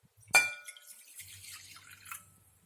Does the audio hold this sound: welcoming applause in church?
no